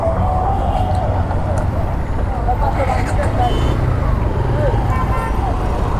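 A motorbike rides through busy street traffic, surrounded by a constant low rumble of cars and buses and occasional horn toots. Someone talks close by over the road noise.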